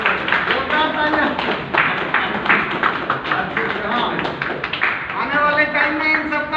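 Audience clapping at the Dhanvantari program at Hotel Ashok in Bachhrawan, Raebareli: a dense patter of claps running steadily throughout, with a voice talking loudly over it.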